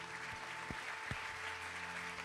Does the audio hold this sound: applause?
yes